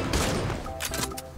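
Gunfire in the online shooter game Point Blank, a quick cluster of loud, sharp shots over a busy game-sound background, close and dense for about a second and a half.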